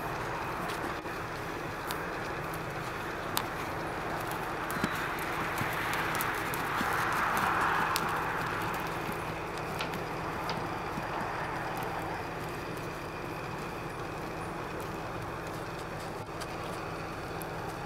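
Horse hooves loping steadily on ground during horseback riding, a soft continuous rhythmic clip-clop that swells briefly in the middle, with no talking over it.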